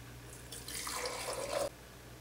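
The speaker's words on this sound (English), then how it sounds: "I'm going to pour it into some sterilized and still hot canning jars" Hot rosehip syrup poured into sterilized, still-hot glass canning jars: a steady liquid splashing stream for about a second, rising slightly in pitch as the jar fills, then stopping abruptly, with no talk.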